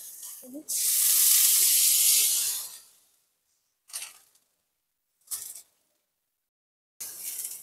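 Red chili paste hits a hot pan of mustard hilsa curry with a loud hissing sizzle lasting about two seconds. Three short, sharp hisses follow after quiet gaps.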